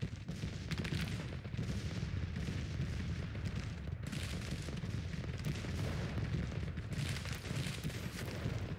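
Continuous distant artillery and musket fire across a Civil War battlefield in Grand Tactician: The Civil War, a dense rumbling barrage of overlapping booms and crackles with no pause.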